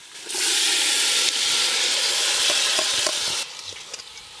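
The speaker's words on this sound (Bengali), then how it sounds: "এবার আমি হাঁড়িতে দিয়ে দেব" Soaked rice added to a hot cooking pot for paneer pulao gives a loud, steady steam-like hiss and sizzle lasting about three seconds, then fades into light stirring clicks.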